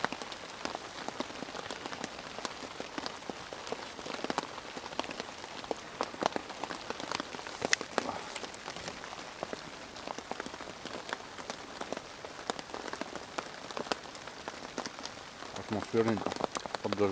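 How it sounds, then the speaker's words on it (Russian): Rain patters steadily on the forest and surfaces around a cabin by a river, an even, close hiss of drops with no break. "Атмосферненько, под дождем."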